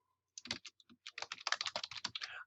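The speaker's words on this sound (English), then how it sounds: "I'm going to type my full name." A full name typed on a computer keyboard, a quick, close run of soft key clicks in an uneven rhythm, quiet and with no talking.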